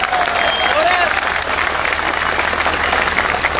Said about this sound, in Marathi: त्या पोलिसांसाठी एकदा जोरदार टाळ्या होत्या